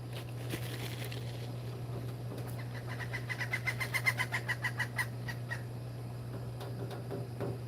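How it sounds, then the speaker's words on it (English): Several birds call close by in a rapid run of chirps that peaks in the middle and then thins out, over a steady low hum, with no talking. "Birds always come real close."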